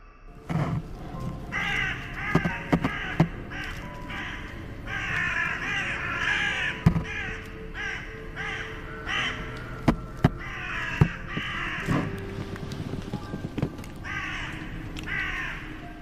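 Several crows caw loudly and repeatedly at a moderate distance, their harsh calls overlapping, with sharp knocks and rustles scattered throughout.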